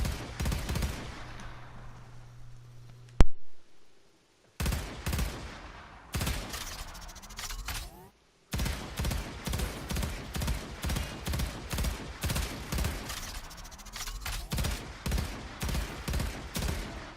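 Cyngas burst-fire archgun from Warframe shooting in rapid bursts of sharp, loud reports separated by brief pauses, with the rhythmic volleys continuing almost without break and no voice over them.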